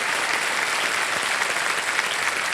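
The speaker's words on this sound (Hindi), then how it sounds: "जोरदार तालियां बज जाए मधुरिमा जी के लिए।" Loud, dense studio audience applause on a television quiz show, a continuous roar of many hands clapping at close range with no talking.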